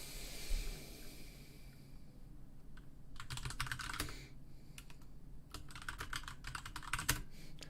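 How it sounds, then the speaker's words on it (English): Keys on a computer keyboard clatter in quick irregular bursts of typing, close but soft, separated by pauses against a steady low room hiss. "Do you want the keyboard to be louder?"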